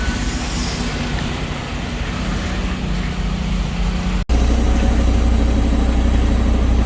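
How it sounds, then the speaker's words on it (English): Forklift running inside a warehouse dock, a steady engine hum and rumble heard from nearby, continuous throughout with a brief dropout partway before resuming slightly louder. "You guys hear that forklift running around in there?"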